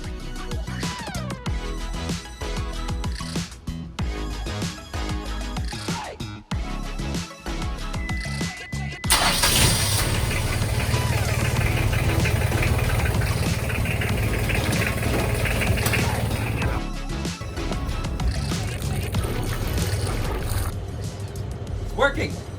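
A catamaran's engine, just repaired with a new water pump belt, starts partway through and settles into a steady, loud idle that runs on continuously, with people talking nearby before it fires.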